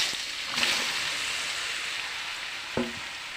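Hog plums tipped into hot oil tempered with five-spice give a steady, close sizzle that carries through the whole stretch, broken by a couple of brief stirring knocks, with no voices.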